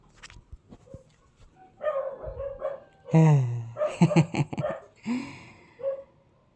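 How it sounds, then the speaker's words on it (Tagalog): Several dogs bark and yip in short, overlapping bursts at close range, with a few whimpers mixed in and no talking. "ang daming aso"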